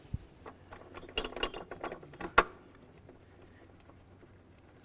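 A ratchet turns mounting screws on a Dodge Journey plate, giving a short run of quiet clicking ratchet strokes followed by one sharper click, close and faint against a quiet background.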